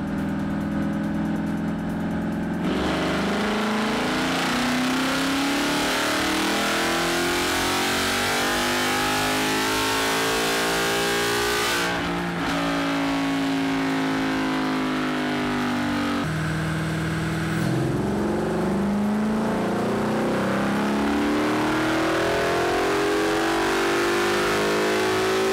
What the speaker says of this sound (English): the first two pulls of the dyno session